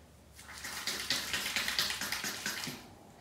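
A tap runs into a sink during face washing, the stream starting softly then splashing steadily with rhythmic bursts as hands scoop water, close and moderately quiet, fading at the end.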